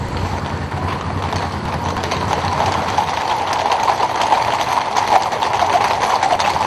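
Horses' hooves clip-clopping on pavement during a mounted escort of honour, a loud, busy patter of many hooves together that swells slightly toward the end.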